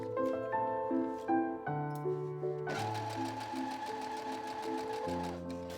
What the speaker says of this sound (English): I attached my two collar pieces together by putting the right sides together and stitching